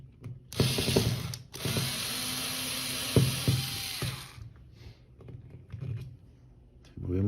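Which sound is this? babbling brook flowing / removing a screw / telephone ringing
removing a screw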